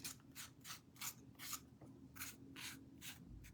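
Gold Posca paint pen rubbed lightly over cardboard in a run of about eight soft, evenly spaced strokes, each a brief scratchy swish, close and quiet over a low hum.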